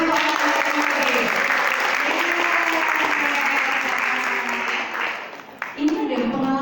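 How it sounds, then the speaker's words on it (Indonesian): An audience claps steadily for several seconds, the applause thinning and fading out near the end as a voice begins to speak. "Mana tepuk tangan untuk anak-anak yang hadir?"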